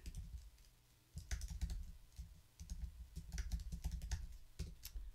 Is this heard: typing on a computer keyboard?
yes